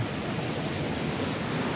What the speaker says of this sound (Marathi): आपल्यासमोरच आता धबधबा आहे जो कातळखडा राजापुरातील प्रसिद्ध धबधबा